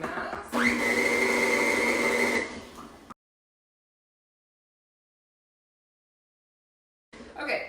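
A stand mixer whirs steadily as it kneads rustic bread dough, a loud motor whine lasting about two and a half seconds before cutting off into silence, then briefly restarting.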